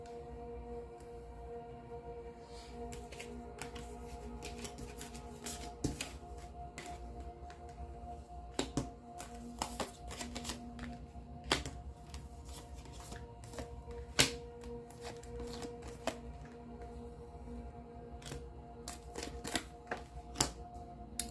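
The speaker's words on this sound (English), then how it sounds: "we're going to go ahead and lay out your cards" Tarot cards laid out one by one on a table, soft intermittent taps and slides against a quiet background, close and faint.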